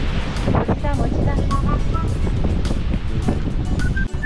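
Ocean waves wash onto a beach in Hawaii near volcanic cliffs, a constant loud surf roar mixed with wind buffeting the microphone, and voices murmur faintly underneath.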